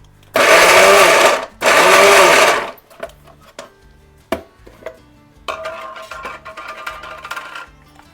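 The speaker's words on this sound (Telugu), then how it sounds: "మనము స్వీట్ కార్న్ని ఇలా కచ్చబిచ్చగా గ్రైండ్ చేసుకోవాలి" A mixer grinder coarsely grinds sweet corn in two loud, close pulses of about a second each, followed by quieter clatter and handling noises.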